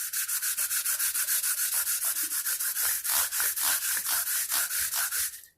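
Grit paper is pushed back and forth on a levelling tool over banjo frets, a steady run of about two dozen quick, rasping strokes, close and even in rhythm, stopping at the end.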